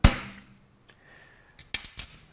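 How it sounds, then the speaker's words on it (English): Metal transfer punch struck with a hammer while set in a hole in a workpiece clamped in a vise: one sharp, loud clang at the start ringing out, followed by a few faint light taps and small clicks. "Then I'll put a transfer punch in the first hole, tap it."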